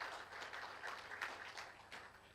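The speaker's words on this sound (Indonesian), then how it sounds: "Kasih tepuk tangan bagi nama Tuhan" A church congregation claps during a sermon, soft and fairly distant applause with a few sharper claps now and then, faint overall and slowly tapering.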